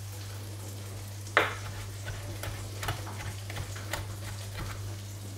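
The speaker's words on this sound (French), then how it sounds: "Et on continue la cuisson du poisson." Yellow pollack fillet sizzling in a pan alongside bacon and asparagus, a soft steady crackle with scattered pops and one sharp spit, over a constant low kitchen hum.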